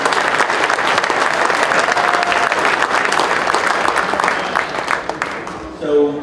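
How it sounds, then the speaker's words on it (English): A banquet audience at a Tennessee turkey hunt gathering gives its winners a loud, dense round of applause that holds steady, then thins and tapers off near the end. "Now give them a round of applause,"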